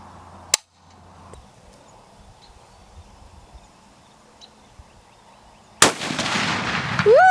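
A rifle fired during an axis deer hunt, one sharp, loud close shot early on, then a long quiet stretch before a burst of loud rustling and commotion.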